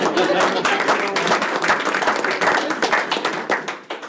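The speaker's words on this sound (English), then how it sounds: "I'm gonna clap for that" People at a Conestoga Valley community forum clap for newly hired staff, a fairly loud, dense round of clapping that runs the whole time, with voices talking over it.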